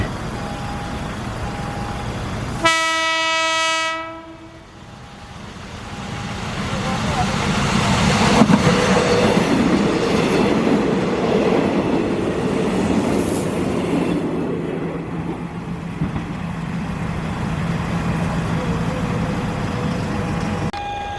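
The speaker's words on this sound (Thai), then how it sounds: "ส่วนขบวนถัดมาที่กำลังเห็นอยู่นะครับ ก็จะเป็นขบวนรถด่วนพิเศษ 23 นะครับผม" A special express passenger train on a Thai railway line near Kanthararom, Sisaket, sounds a loud close horn blast, then rumbles past with heavy wheel and carriage noise that gradually fades, and someone talks over it.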